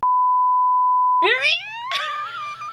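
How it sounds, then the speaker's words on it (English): A steady sine-tone censor beep holds alone for about a second, then cuts off as a person's voice carries on talking on a podcast. "We're going to beep this if I haven't announced it yet."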